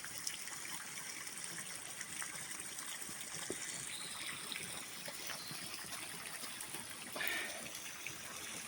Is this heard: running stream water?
yes